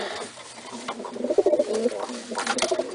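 Pigeons, including an ash red bird with a white wing bar, coo in soft repeated rounded phrases at close range, with a steady low hum underneath.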